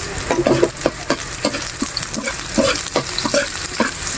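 Squid and onion sauté for adobo in a hot pan, loud close sizzling broken by repeated stirring scrapes in an uneven rhythm, no voices.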